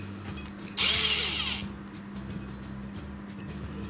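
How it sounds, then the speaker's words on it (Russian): A cordless screwdriver whirs in one short, loud burst, driving screws while stove doors are fitted to a homemade fireplace stove with a bread oven, against steady background hum. "Во, смотрите, шуруповертом."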